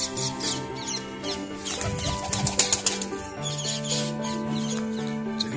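A pigeon flapping its wings close by, in quick fluttering bursts with a louder flurry in the middle, over a faint background hum.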